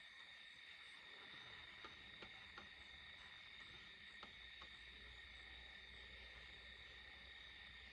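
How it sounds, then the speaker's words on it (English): Steady, dense insect chirping at night, a continuous high trill from many crickets with a few sharper clicks, no voices. "We hear the crickets chirping"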